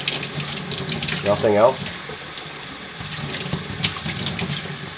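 Tap water runs steadily into a sink while reverse-osmosis filter housings are washed with mild dish soap, a close continuous splashing rush with a brief louder gurgle, and a voice speaks briefly over it.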